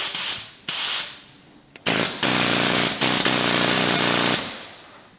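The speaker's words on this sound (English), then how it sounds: "Right, so I've got an air-powered hacksaw." An air-powered hacksaw cuts a rusty, crusty car front apron in loud pneumatic bursts, two short ones then a longer sustained run broken by brief pauses, close and harsh.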